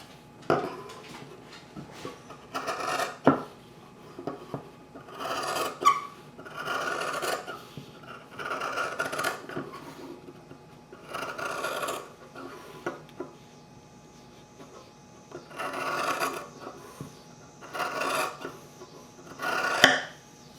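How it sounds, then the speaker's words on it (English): Scissors snip through four layers of fabric while cutting out a heart shape, giving a series of close, separate rasping cuts with short pauses between them. "Now we're going to take scissors and cut out this heart shape."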